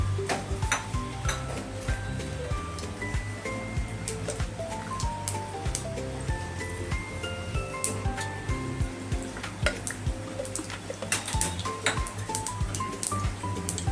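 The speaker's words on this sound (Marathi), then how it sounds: "मोहरी तडतडली की जिरी टाकूया." Hot oil sizzles steadily while mustard seeds crackle and pop in quick irregular bursts, with occasional clinks of a utensil against a pan.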